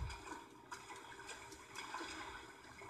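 Water swishing and splashing in a video game as a character swims through cold water, a steady watery wash with a few soft surges, fairly quiet and without talk.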